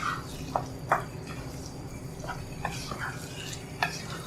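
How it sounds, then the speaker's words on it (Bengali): A spoon stirs boiled taro leaves into a hilsa fish head curry in a pot, giving soft wet scrapes and a few sharp clinks over a low steady simmer. "এবারে সব উপাদান একসাথে ভালোভাবে মিশিয়ে দিতে হবে"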